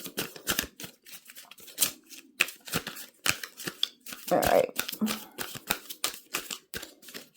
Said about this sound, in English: let me finish shuffling